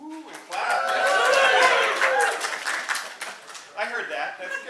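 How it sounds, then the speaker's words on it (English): A lecture-hall audience at a university physics talk bursts into clapping mixed with whoops and cheers, swelling quickly, then thinning into scattered claps and voices before a second brief surge. "if people want to woo and clap"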